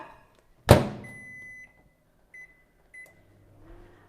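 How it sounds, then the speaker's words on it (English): A microwave oven warming 3/4 cup of skim milk for one minute: a loud thud as the door shuts, then a steady hum, followed by short electronic beeps with a faint rumble at the end. "Can you put your 3/4 cup of skim milk in your microwave and warm it up for 1 minute?"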